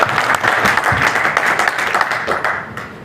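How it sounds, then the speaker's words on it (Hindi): An audience claps and applauds in a steady, dense burst of hand claps that gradually tapers off toward the end. "तो जो तालियां बजा सकते हैं"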